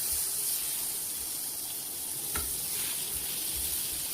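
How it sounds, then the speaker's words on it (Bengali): Pieces of pointed gourd frying in hot oil in an uncovered pan, a dense continuous sizzle with faint stirring scrapes, close and steady, nobody speaking. "দেখেন এইভাবে আমি পুটলগুলো ভেজে নিব"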